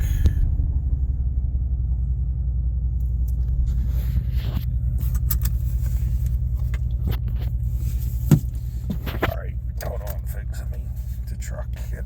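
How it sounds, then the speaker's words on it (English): A truck pulls over and parks, its engine a steady low idle rumble throughout, with faint clicks and handling noises near the end and no talking. "I'm going to pull the truck over and get out."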